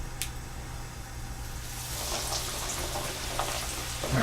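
Schnitzel fries in hot oil, producing a steady close hiss and crackle that grows fuller and louder over a low background hum.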